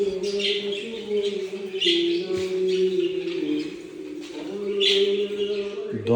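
Several pigeons from a bred flock, with a new batch brought from Egypt, coo softly at close range, repeating steady low calls in a loft with a few scattered chirps.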